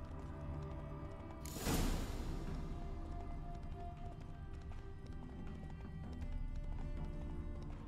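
Horse hooves clip-clop at a gallop in The Witcher 3: Wild Hunt, a steady rapid beat under game ambience, with a sharp whoosh burst near the start.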